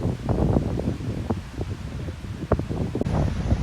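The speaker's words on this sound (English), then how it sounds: "It is so windy today." Strong wind buffets the microphone on a mountain trail in southern New Hampshire's White Mountains on the Appalachian Trail, a steady loud roar with rustling gusts and sharp bursts throughout, no voices.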